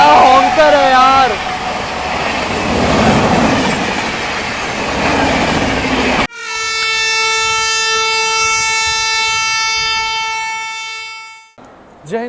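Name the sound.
Samta Express train passing with horn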